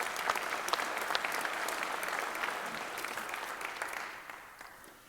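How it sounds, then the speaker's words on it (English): Members at the Runestone Electric Association's 2024 annual meeting give steady, crowded applause that holds for several seconds and then tapers away at the end. "we want to give these folks a round of applause"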